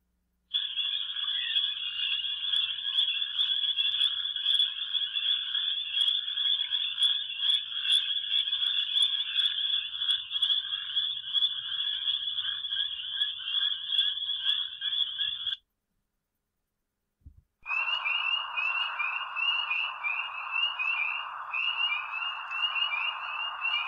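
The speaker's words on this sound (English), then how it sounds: "Peepers are our most abundant frog species and are usually heard calling in a full" A full chorus of spring peeper frogs rings out in a dense, continuous wall of high, shrill calls, cutting off abruptly for about two seconds before resuming just as thick, with no voices.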